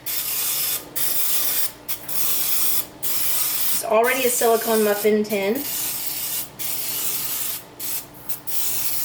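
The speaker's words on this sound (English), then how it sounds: "You just pump it up. You get to control the oil of your choice. And then I'm just gonna spray." Misto pump oil sprayer misting oil into a silicone muffin tin: a series of short, close hissing spray bursts with brief gaps, with a voice talking briefly in the middle.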